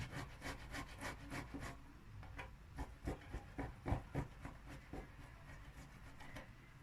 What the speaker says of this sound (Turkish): haşlanmış olan patatesimizi rendeliyorum.